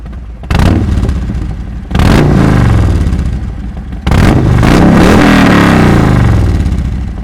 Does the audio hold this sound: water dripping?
no